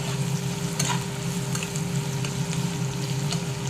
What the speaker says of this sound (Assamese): এতিয়া এইখিনি মই 2 মিনিটমান সময় ভাজি লওঁ